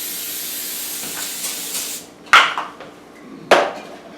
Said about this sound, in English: So spray your oil on top of all this.